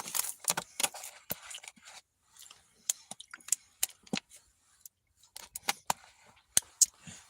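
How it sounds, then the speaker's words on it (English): Keys jingle and clink in irregular bursts, some sharp metallic rattles close by, separated by brief silences. "All I need is my keys."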